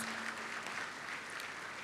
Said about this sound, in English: Please, can we give her a round of applause?